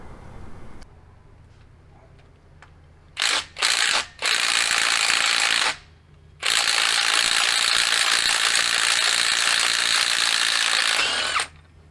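Battery impact wrench hammering a socket during a 5.3L LMG V8 engine teardown: two short loud bursts, then sustained close hammering runs of several seconds each, with no talk.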